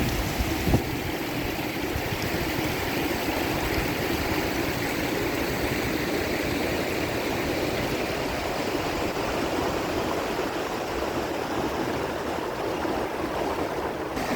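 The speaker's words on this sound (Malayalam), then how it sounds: "നല്ലൊരു വെള്ളച്ചാട്ടമാണ് കേട്ടോ ഇത് നമ്മുടെ സൈഡിന് സൈഡിൽ തന്നെയാണ് വെള്ളച്ചാട്ടം" A waterfall and stream rush beside a riverside property in a dense, continuous roar of flowing water, steady and fairly loud throughout with no talk.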